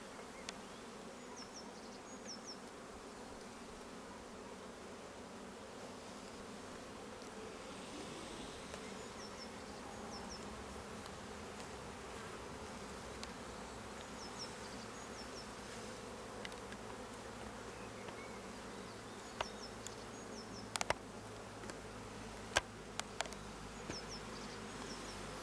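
Honey bees buzz around an apiary hive in late April, a soft, continuous drone with individual bees whirring past now and then, and no one speaking.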